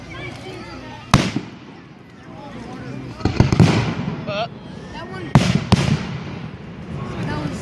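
Fireworks at a hometown Independence Day display go off in several sharp, loud bangs with crackling tails, spread irregularly across the clip as people talk and react nearby.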